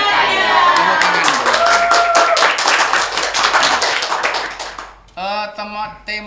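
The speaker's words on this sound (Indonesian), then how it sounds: "Tepuk tangan." Audience clapping and cheering at a school event in Solo, a dense burst of claps with shouting over it that fades out, followed by a short stretch of speech.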